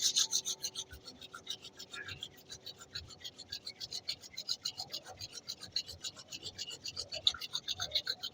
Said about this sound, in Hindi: अपने दोनों हथेलियों का घर्षण करें